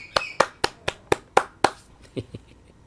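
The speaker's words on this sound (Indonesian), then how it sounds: "Tepuk tangan yuk Bapak Ibu untuk Tuhan kita yang hebat." A church congregation claps in unison, about seven sharp, evenly spaced claps close by, then a few softer, scattered ones as the clapping tapers off.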